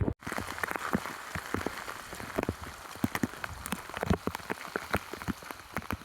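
Steady rain patters on a hard surface, with irregular close drips and splats scattered throughout, no voices.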